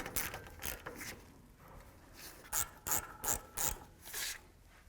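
Torque wrench clicking and ratcheting on the brake caliper slider bolts of a 2015-20 GMC Yukon during a rear brake job, with a quick run of four or five sharp, close ratchet bursts following quieter mechanical fiddling.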